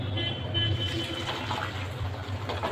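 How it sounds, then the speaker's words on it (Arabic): Hot carob juice pours through a strainer into a glass bowl, making a steady, close liquid splashing and trickling sound that runs without a break. "لو هتصفيه سخن بلاش تصفيه ببلاستيك، انا هصفيه بول ازاز اهو"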